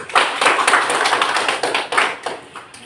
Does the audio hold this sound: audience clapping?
yes